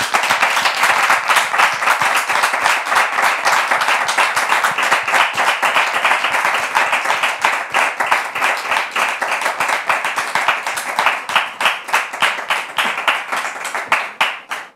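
A studio audience on a French talk show claps loudly and steadily, the applause holding strong before thinning toward the end.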